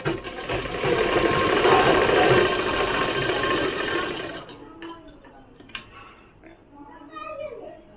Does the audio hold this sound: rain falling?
no